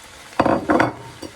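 Chopped cabbage hitting a hot pan and being stirred, giving a couple of quick clattering scrapes over a light sizzle, close and brief.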